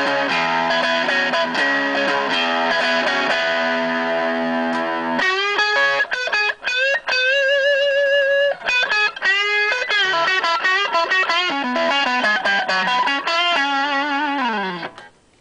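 A Stratocaster on its middle pickup drives a Lenahan Kanji overdrive pedal, playing a run of distorted, sustained chords that gives way to a busier lead line of bent notes, steady and loud throughout with no talking.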